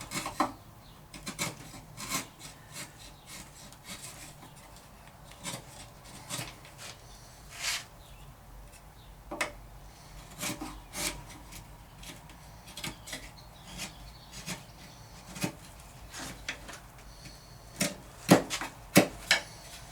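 A flat chisel scrapes wood while shaping a guitar headstock, giving close, irregular dry strokes in short bursts over faint background noise.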